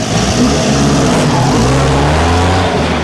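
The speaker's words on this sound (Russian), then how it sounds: "Ну и теперь проверяем, буксуют ли колеса передние." A UAZ Bukhanka van roars at high revs while its front wheels are checked for slipping, a loud, continuous engine drone heard up close with no voices.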